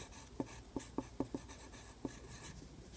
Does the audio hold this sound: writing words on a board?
yes